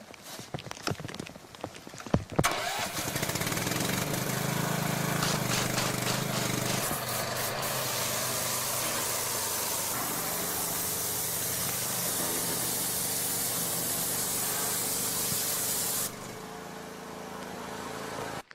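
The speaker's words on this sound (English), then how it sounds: "What I'm doing now is I'm putting on a graffiti remover that's made for brick and masonry" Graffiti remover for brick and masonry is sprayed in a long, loud, continuous hiss that starts abruptly after a few handling clicks and stops cleanly near the end, close to the listener with no talking.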